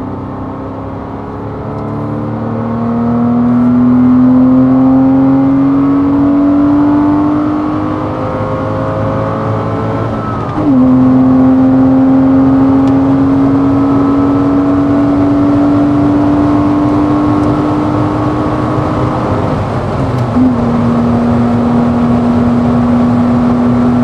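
Porsche Cayman with a 245-horsepower engine and a rare manual gearbox pulls hard from third gear, its loud, close engine note climbing steadily, dropping sharply at two quick shifts near 10 and 20 seconds, then rising again with no talk.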